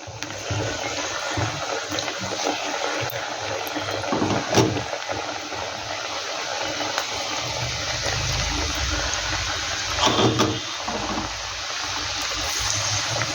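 Cashew snacks frying in hot oil, a steady bubbling hiss throughout with a few louder crackling bursts, close and fairly quiet.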